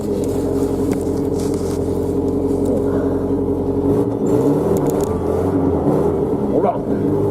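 A snow blower engine runs with a steady low drone and hum close by, its tone shifting midway as it works, while people talk over it.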